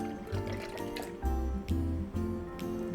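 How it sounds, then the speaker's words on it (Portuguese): Water poured into a blender jar for a tuna pie batter, a soft splashing fill that trickles and drips in short bursts, near and quiet. "E 100 ml de água agora"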